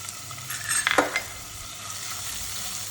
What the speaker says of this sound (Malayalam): എണ്ണ ഒന്ന് ചൂടായി കഴിഞ്ഞാൽ വെളുത്തുള്ളി ഇഞ്ചി ചതച്ചതിട്ട് കൊടുക്കാം.